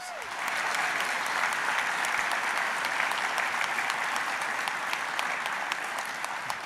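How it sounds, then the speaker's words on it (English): Dense, steady applause from an audience at an aviation community awards ceremony, a continuous wash of clapping that swells in at the start and holds evenly throughout. "So let's give them all a round of applause."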